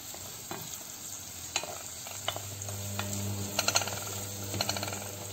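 Onion, garlic and ginger fry in a pan with a soft, steady sizzle, while a utensil stirs and clinks against the metal now and then.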